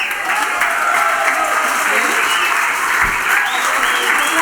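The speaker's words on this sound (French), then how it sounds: "Applaudissez-les." A theatre audience applauds at the close of an amateur stage comedy show, steady dense clapping filling the whole stretch at moderate loudness.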